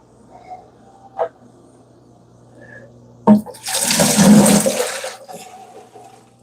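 Water from an aquarium sump rushes out in a short, loud surge lasting under two seconds, preceded by a few small knocks and splashes and followed by a quieter trickle.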